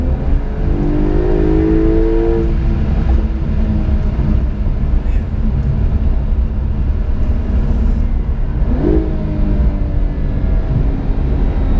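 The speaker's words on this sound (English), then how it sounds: "all of these 992s have that GT car howl, man, up top" A 2020 Porsche 911 Carrera (992) base coupe in sport mode gives a loud, steady engine howl with a rising pitch sweep near the start and another near the end, continuous throughout with no speech.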